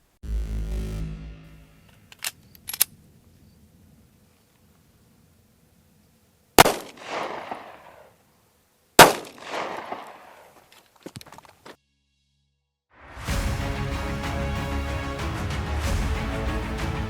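Sharp 9mm Smith & Wesson Shield pistol shots crack out at an outdoor range, a few isolated loud reports spaced seconds apart amid quiet handling noises, with a sustained noisy burst toward the end.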